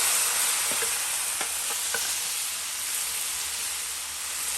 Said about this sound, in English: we're going to allow it to fry for about a minute or so